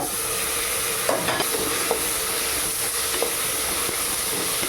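Continuous loud sizzling and frying hiss as tomatoes go into a hot pan, with a few soft clinks and stirring sounds, no speech.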